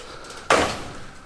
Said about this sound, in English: let's open up the first drawer,